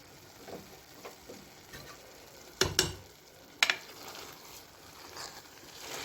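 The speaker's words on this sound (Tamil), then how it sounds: "கருவேப்பிலை இலையும் போட்டு நம்ம அப்படியே கலந்து விட்டுக்கலாம்" Wheat rava and moong dal upma with curry leaves being stirred in a pan: a soft steady sizzle under scattered scrapes and a few sharp clicks of a spoon against the pan, close and quiet, no talking.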